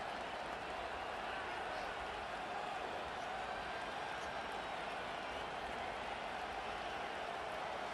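Stadium crowd noise from a Madden NFL 25 football game, Ravens at Commanders, a steady broad roar and murmur of the crowd running continuously throughout, moderately loud with no distinct peaks.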